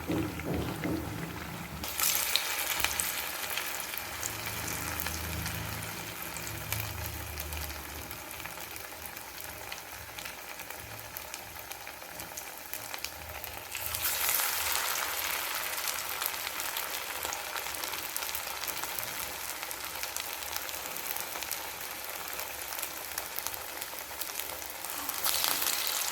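Sago vada (javvarisi vada) deep frying in hot oil until golden brown, a steady close sizzle and crackle that carries on throughout and grows brighter and louder partway through, with no voices.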